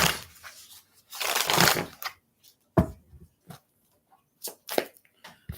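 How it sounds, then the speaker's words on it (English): Tarot card decks are shuffled by hand in bursts of crisp riffling and flicking, a long burst followed by several short snaps, close and alone. "Let me just shuffle these decks a little bit."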